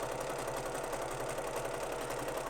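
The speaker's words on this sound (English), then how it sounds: "Then I will reach under and I will sew till about 2 or 3 inches away" A domestic sewing machine runs steadily, stitching pieced quilt top fabric with a continuous, even whirring hum close by and no pauses.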